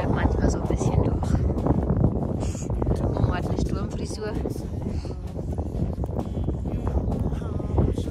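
Strong wind buffets the microphone outdoors on a walk downhill near a horse farm, a loud continuous broadband roar with gusty swells throughout and no pauses.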